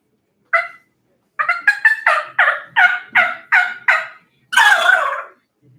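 A turkey mouth call imitating an immature turkey makes a short yelp, then a rapid run of about eight gobble-like notes, ending in a longer raspy squawk, loud and close.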